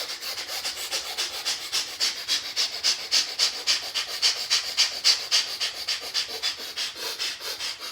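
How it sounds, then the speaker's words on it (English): Breath of fire breathwork exercise: rapid, rhythmic forceful nasal exhalations about two to three per second, close and steady with an even pulse and no talking. "So breath of fire again."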